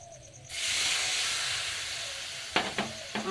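Water poured into a hot cooking pan of spiced masala sets off a sudden loud, steady hiss and sizzle that slowly fades, close by, followed by a few light clinks.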